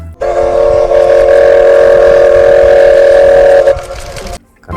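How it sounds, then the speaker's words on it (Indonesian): A toy locomotive lets out one long, steady whistle at close range, loud and unbroken for about three and a half seconds before cutting off, with brief clatter after. "Widih, ada kereta api lokomotif teman-teman."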